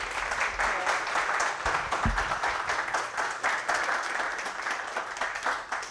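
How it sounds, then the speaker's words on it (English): An audience at a university honors reading event gives a warm round of applause: dense, even clapping that carries on steadily for several seconds, with only a faint murmur underneath. "And let's please give a warm round of applause for Rania."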